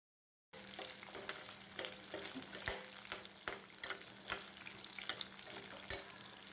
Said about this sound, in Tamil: இப்போ வெங்காயமும் பூண்டும் நல்லா வதங்கட்டுங்க.